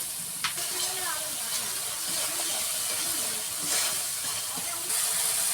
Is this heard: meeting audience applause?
no